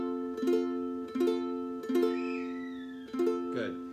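An F guitar chord with an added top note is strummed several times in a slow, even rhythm, each ringing out clearly before the next, with a brighter final strum.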